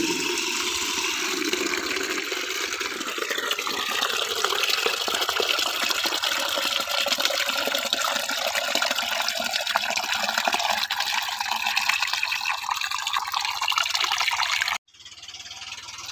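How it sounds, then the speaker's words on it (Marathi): Water poured onto newly planted pineapple plants: a steady splashing, trickling stream runs continuously for about fifteen seconds, then cuts off abruptly into quiet. "तर आपण पाणी टाकूया त्यांना थोडं."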